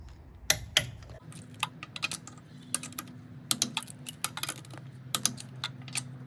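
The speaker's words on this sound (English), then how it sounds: "gonna torque the wheel to 80 foot-pounds to finish up this repair job" A torque wrench tightens the wheel lug nuts on a 2006 Toyota Tacoma 4x4 to 80 foot-pounds, giving quiet, irregular metallic ratchet clicks in short bursts.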